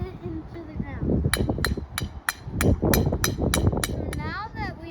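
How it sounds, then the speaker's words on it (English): An ordinary hammer drives a rebar stake into the ground outdoors while making a Halloween tombstone display, giving about eight sharp metallic strikes in an uneven rhythm under continuous talk. "We're gonna grab a normal hammer and we're gonna hit it into the ground."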